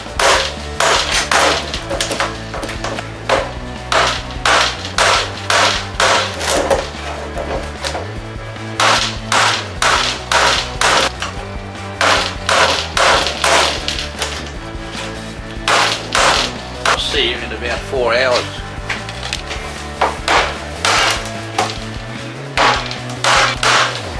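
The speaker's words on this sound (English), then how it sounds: "So I have to use mash hammer." A lump hammer strikes a car's windscreen frame again and again in loud, sharp metallic blows, each ringing briefly, coming in irregular bursts with a low ongoing hum underneath.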